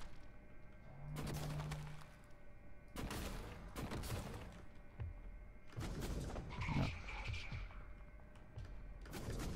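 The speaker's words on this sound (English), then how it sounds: "Let's use the glue gun." A GLOO glue gun fires in the sci-fi game Prey, giving several separate, quiet, gooey bursts at irregular intervals with soft thuds between.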